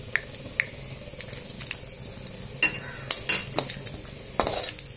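Tempering of bay leaf, red chili and cumin in hot oil for a hotel-style matar paneer crackles and sizzles steadily, with sharp pops and scattered louder bursts near the end, close up and without talk.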